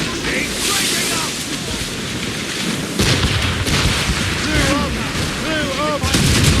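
Ship cannons boom in heavy broadsides during a naval battle in Assassin's Creed Rogue, the blasts rolling over wind and surging sea while voices shout orders.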